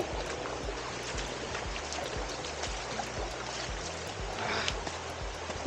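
Water flowing in the stream below Kelwali waterfall, a close steady babble and trickle over rocks with soft repeated splashes, as if feet are wading through.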